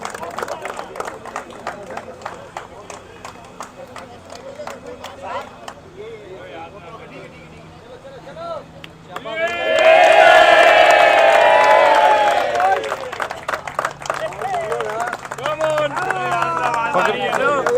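A crowd at a cricket prize distribution ceremony breaks into loud cheering and whooping partway through. Scattered clapping comes before it, and someone talks over the noise on the mic at the start.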